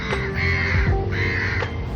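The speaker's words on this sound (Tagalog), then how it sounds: "Sanay na akong binabati ng mga uwak niyan tuwing umaga ng good morning." Crows caw in the morning in Singapore, two drawn-out harsh calls close by, layered over a steady low background hum.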